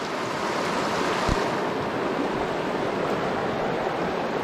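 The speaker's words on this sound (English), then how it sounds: "I'm just about to do a little water crossing." Water in a stream crossed on foot during a hike rushes steadily and fairly loud, a constant broadband flow with one brief splash, no voices.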